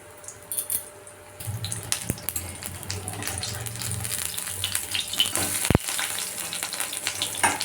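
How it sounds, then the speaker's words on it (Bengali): Pumpkin flower fritters frying in hot oil, a continuous close bubbling sizzle with occasional sharp crackles and one loud pop, steady and building slightly throughout, with no talking. "বাকিগুলো আমি সেম পদ্ধতিতে ছেড়ে দিচ্ছি"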